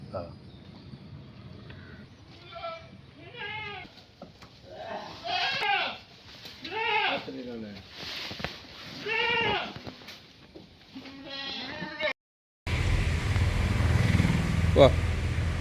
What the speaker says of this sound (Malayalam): നല്ലൊരു അടിപൊളി ആടുകുട്ടിയാണ്